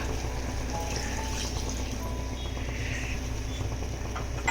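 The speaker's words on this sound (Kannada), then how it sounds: "ಸ್ವಲ್ಪ ನೀರು ಹಾಕೋಣ" Water poured into a pressure cooker pot of avarekalu usli after milk, a steady soft rushing pour lasting several seconds, fairly faint and without talk.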